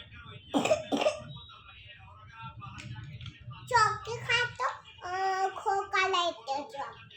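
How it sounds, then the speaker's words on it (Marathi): A child gives a couple of harsh coughs or throat-clearing bursts, followed by a voice talking. "तुला खोकला त्याच्यामुळेच आला"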